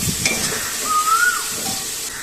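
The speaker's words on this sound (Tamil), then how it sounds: "இப்போ இதையும் நல்லா வதக்கிக்குவோம்." Tomato and curry leaves sautéing in a pan for a mutton head curry, a soft continuous sizzle with light stirring, close and alone.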